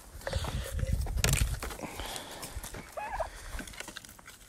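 Turkeys gobble and cluck nearby in a busy homestead farmyard, eating quail eggs, with scattered rustling and bird calls overlapping.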